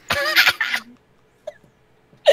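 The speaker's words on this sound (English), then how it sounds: "I was eating Pringles and I started coughing" A person coughs while eating Pringles crisps: a dense burst of hacking coughs up close, then a short pause, a single small cough and a final sharp cough.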